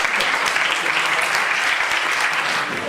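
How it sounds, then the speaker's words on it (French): Audience applauding the participants of a round-table discussion, a dense and even wash of clapping from a sizeable crowd that holds steady for a few seconds. "donc on peut applaudir tous ces participants"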